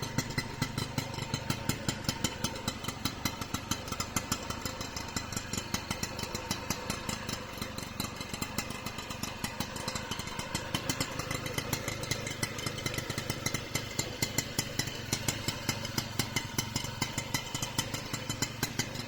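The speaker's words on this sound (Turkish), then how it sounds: "Çalışırken etrafından gelen sese bir bakın." A modified Mobylette moped's small two-stroke engine runs steadily at idle up close, a fast, even putter with a buzzing, rattly tone that continues without pause.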